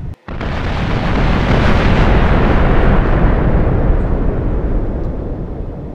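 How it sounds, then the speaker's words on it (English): After a brief silence, a massive boom from nuclear cluster missiles in Minecraft erupts into a sustained, loud roaring rumble that holds for several seconds and gradually tapers off. "gonna hear lots of big booms in 3,"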